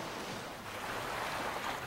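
Ocean waves wash and swell around a small boat at a reef, a steady, soft rushing surge mixed with wind noise buffeting the microphone, fairly faint and continuous with no talking.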